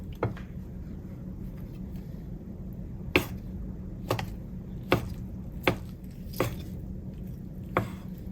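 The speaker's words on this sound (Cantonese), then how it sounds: "首先切冬菇先啦" A kitchen knife chops soaked dried shiitake mushrooms into shreds on a board, six or seven crisp separate knocks spaced about a second apart over a low steady hum, close by, with no talk.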